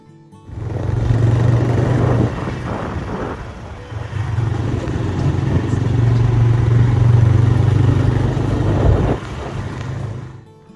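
Motorcycle taxi ride on an Uber Moto bike through Guwahati traffic, with a steady mid-pitched engine drone and road rumble running nearly throughout and a brief dip near the end.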